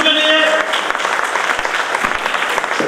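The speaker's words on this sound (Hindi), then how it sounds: "जोरदार तालियां अंशु के लिए।" Audience applause at a school ceremony for Ambedkar Jayanti, a dense burst of clapping from a crowd, loud and sustained, with a voice over a loudspeaker briefly heard at the start.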